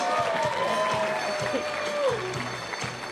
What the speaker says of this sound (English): A round of applause for Jinder Mahal, everyone, please.